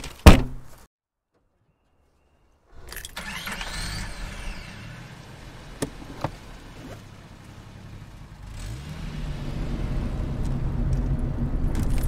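A car door thuds shut, followed by a silence, then a second door clunk and movement inside the vehicle as an engine rumble builds toward the end. No voices are heard.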